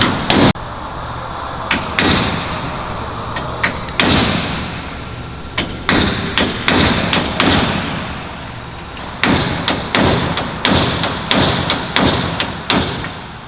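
Magnesium and aluminium rivets being tapped off a bracket from a Lancaster bomber under restoration: a long series of sharp metallic knocks, some isolated and some in quick bursts, close and fairly loud.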